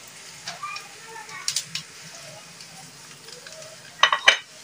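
Whole chillies frying with softened onions in a pan give a faint, steady sizzle, with a few sharp clinks of a spoon or utensil near the end and a voice talking over it.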